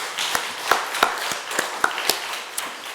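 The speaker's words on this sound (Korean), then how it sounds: "하나님께 영광의 박수 돌려드리겠습니다" Church congregation applauding during a Sunday service: sparse, separate claps ringing out in an uneven rhythm, fairly close and clear, with no voices over them.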